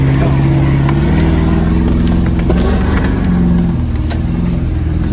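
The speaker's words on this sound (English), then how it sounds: "This is like half a concrete truck driving in mud." A truck with an aluminum bed loaded with about 13,000 pounds of concrete, twice its payload, churns through mud with a loud, steady engine drone and heavy low rumble, with a few knocks and rattles throughout.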